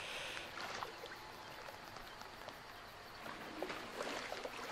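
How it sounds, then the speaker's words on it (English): A wooden paddle dipping and stirring water during a boat ride in the horror game Outlast 2, heard as a steady soft wash of splashes and trickles with no voices. "I was enjoying the nice water sounds from my paddle."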